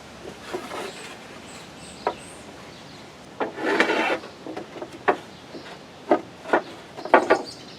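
Pencil lines being marked across pallet-wood joists for a short storage shed: scattered short scratchy strokes and light rubbing against the wood, close and fairly quiet, in irregular bursts with pauses between.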